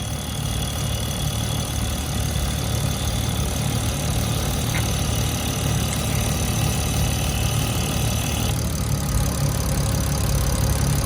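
A Toyota 2JZ-GTE VVTi Aristo engine idles steadily on a cold start, a constant low rumble with a faint high whine running through it.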